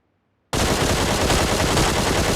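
Gunfire in a team deathmatch shooting video game: after half a second of silence, a loud, dense burst of rapid shots starts abruptly and runs without a break to the end.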